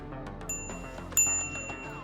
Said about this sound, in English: that's the bell right there